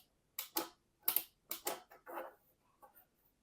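Plastic storage inserts for Tesla Cybertruck door pockets, patterned with a Cybertruck-style design, snap and click into place: a series of crisp close clicks in pairs, then softer rattling handling noises trailing off.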